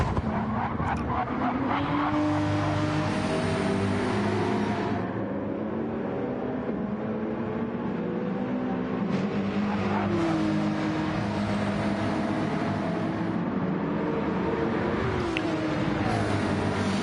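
Race cars lapping the Nürburgring GP circuit in Gran Turismo 7 during a two-hour endurance race, a steady loud engine drone with tire noise throughout, alone without talk.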